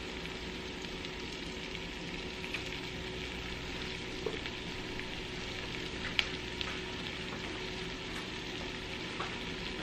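Onions seasoned with black pepper fry quietly in a pan for French onion chicken, a soft, steady sizzle with a few faint clicks from stirring.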